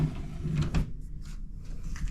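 A drawer in a Carnival Horizon balcony cabin slides open with a short rattle and thump, close and quiet, followed by a few faint soft knocks in the small room.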